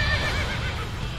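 A horse in the video game Warriors Orochi 3 Ultimate gives a loud, close, wavering neigh lasting about a second, with a faint rumble of hooves beneath.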